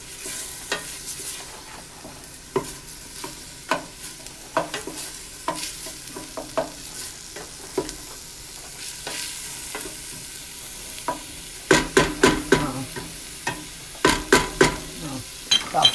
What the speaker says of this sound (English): Dump your carrots in, okay? And let it cook for a little bit.